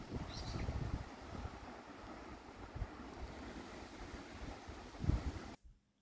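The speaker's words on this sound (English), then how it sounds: "But yeah, rather windy." Gusty wind buffets the microphone outdoors, a low rumbling roar with a few stronger bursts, then cuts out abruptly at the end.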